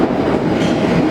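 A London Underground Metropolitan line train at a platform, a loud close rumble of the carriages with a faint clattering texture over a brief moment, no voices.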